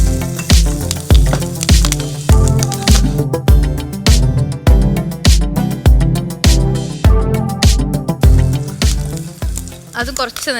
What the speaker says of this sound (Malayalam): ഇത് മുരിങ്ങയില ഒന്ന് വഴറ്റി